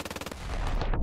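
Rapid automatic gunfire from the Ravenfield battle game, a fast even burst of close, loud shots that blurs into a dense continuous roar of overlapping fire.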